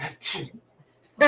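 A single sharp, breathy sneeze bursts out in the middle of a live online auction broadcast, close to the microphone, with people talking just before and after it.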